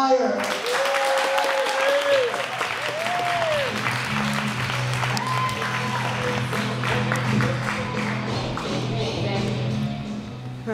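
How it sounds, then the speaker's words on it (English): Sustained applause from a comedy theater audience greets a comedian taking the stage, steady and full across the whole stretch, with music and scattered voices underneath. "please give a round of applause for Mr."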